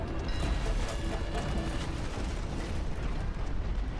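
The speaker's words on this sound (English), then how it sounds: "just relentless bombardment" Relentless naval cannon bombardment in the pirate game Pirate Nation, a dense rumbling barrage of booms and impacts rolling continuously without a break.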